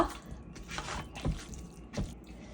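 Eggplant chutney being mixed with lemon juice, a few soft, wet squishing strokes and drips at an uneven pace, close and quiet, without talk.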